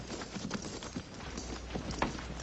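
Cavalry horse hooves clip-clop steadily at a walking pace in a classic TV western, fairly quiet and close, with a few scattered clatters and no voices.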